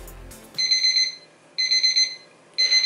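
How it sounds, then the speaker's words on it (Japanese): An electronic alarm clock in the mobile game Toast Girl rings in three bright beeping bursts with short gaps between them, each a high trilling tone, clear and alone without speech. "目覚ましを止めます。"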